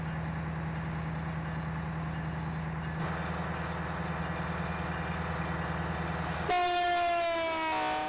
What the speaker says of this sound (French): on va faire des tests d'essai des trains